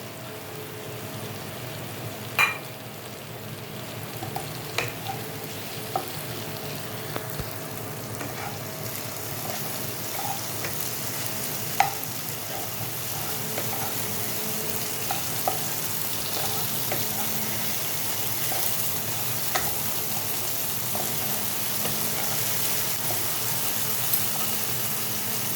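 Chilli chicken with spring onion greens stir-frying in a pan gives a steady, dense sizzle throughout, with light scattered clinks and scrapes from stirring.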